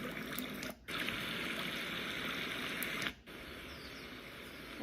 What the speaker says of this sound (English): And so sound of the water.